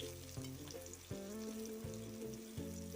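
Spicy bangda mackerel fries in oil at home with a steady, soft sizzle. Faint crackles and occasional pops come from the pan while music plays over it.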